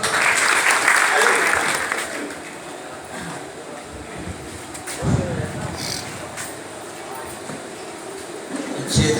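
Audience applause at a ceremony honouring students, a broad wash of clapping that peaks early and then fades to a lower rustle, with voices over it.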